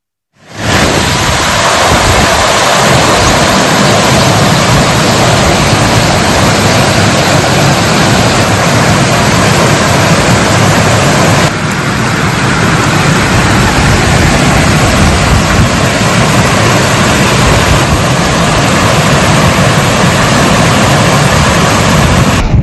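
Floodwater roaring through the opened gates of the Jurala dam, a loud, dense, unbroken rush of water that stays steady throughout, close and with no talking.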